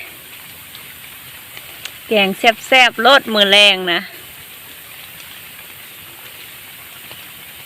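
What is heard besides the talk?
rain falling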